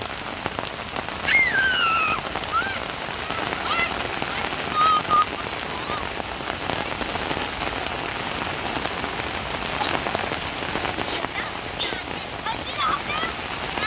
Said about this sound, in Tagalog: Ayan na, mano na po yung ulan. Hindi na po masyadong malakas. Katamtaman lang.